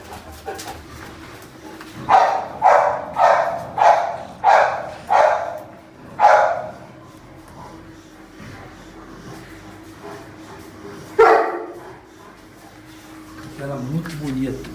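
A dog barks loudly and nearby in a quick run of about six barks, then falls quiet before one more bark later, with a person speaking briefly at the end.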